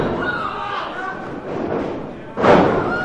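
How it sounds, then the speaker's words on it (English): Wrestlers at a Bay City Wrestling show are slammed onto the ring mat by a double hip toss, a single heavy thud near the end that follows a stretch of crowd noise and commentary. "With a double hip toss."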